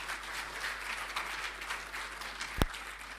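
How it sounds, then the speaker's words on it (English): A crowd applauding after speeches at a formal courtesy call by the Asantehene on the president in Ghana, a steady wash of distant clapping with one sharp thump near the end. "A round of applause is well deserving."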